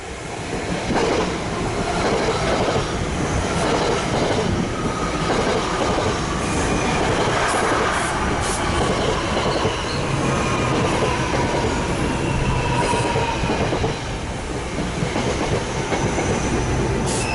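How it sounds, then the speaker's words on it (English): NJ Transit ten-car train coming to a stop, loud rumbling rail noise with rhythmic wheel clatter and high-pitched squeals from the wheels over a long, steady stretch. "The 10-car train has come to a stop, and 1321 is nearby waiting for more passengers."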